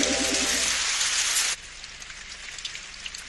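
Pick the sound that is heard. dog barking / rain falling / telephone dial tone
rain falling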